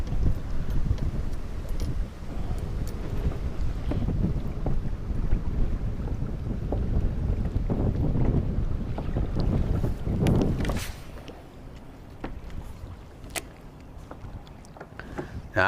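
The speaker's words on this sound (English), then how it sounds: "I'm sure you can hear this wind is really kicking up." Strong wind gusting over a lake while fishing from shallow water, heavy rumbling buffeting against the microphone for most of the stretch, then easing to lighter gusts with some scattered knocks and splashes near the end.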